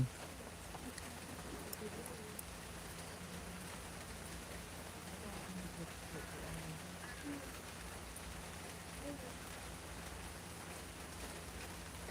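Steady rain falls at an outdoor Thai temple garden, a faint, even hiss of drops on surfaces continuing unbroken throughout with no other distinct sounds.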